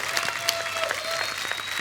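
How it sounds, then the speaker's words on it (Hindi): Studio audience applause on a Hindi comedy talk show, welcoming two guests: dense, steady clapping throughout, close and even, with no voices over it. "जोरदार तालियां एक बार चंकी सर और शक्ति सर के लिए।"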